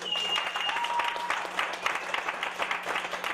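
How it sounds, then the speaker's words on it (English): A crowd at a spoken-word show gives a round of applause, steady dense clapping throughout with cheers and voices mixed in. "Yeah, one more round of applause."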